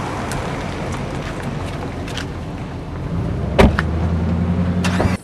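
A car drives along past cotton fields near Nutbush, Tennessee, its engine hum and road rumble building steadily under wind noise, with a brief thump partway through.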